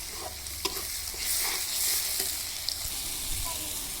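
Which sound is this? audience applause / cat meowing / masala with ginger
masala with ginger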